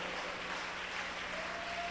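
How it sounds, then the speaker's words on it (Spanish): A church congregation applauds in a steady, dense wash of clapping that fills the whole moment without a break, heard from within the room at moderate loudness. "Póngase en pie y le da un aplauso fuerte a Él"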